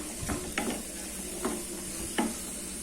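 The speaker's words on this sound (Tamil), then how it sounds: "நான் கேரட் பீன்ஸு பட்டாணி உருளைக்கிழங்கு சேர்க்குறேன் இப்போ இது சேர்த்துட்டு இது நம்ம ஒரு ஒரு ரெண்டு நிமிஷம் வதக்கி விட்டுடலாம்" Carrot, beans, peas and potato stir-frying in a pan for wheat rava biryani give a steady sizzle, with a few soft scraping stirs of a spoon close by.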